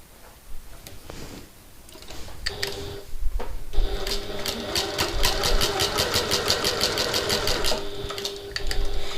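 Sewing machine basting backpack straps onto the raw edge within the seam allowance, starting with a few slow stitches, then running in a steady fast rhythmic whir of needle strikes, close and clear with no talking.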